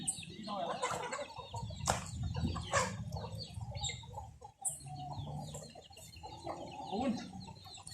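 Chickens, fighting cocks raised on a Thai farm, cluck and a rooster calls amid farmyard noise, with a burst of wing flapping; several birds close by, fairly busy and continuous.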